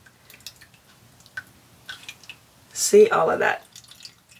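Cauliflower juice drips and splashes through a strainer, a short wet burst standing out near the end beneath a nearby voice.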